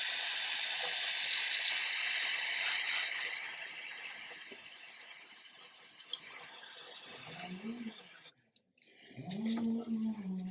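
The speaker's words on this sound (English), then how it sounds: "We'll spray with some brake cleaner to degrease." Brake cleaner is sprayed onto a Ford Ka engine surface to degrease it, a steady, close hiss that fades after several seconds before a short pause and a few brief rustles.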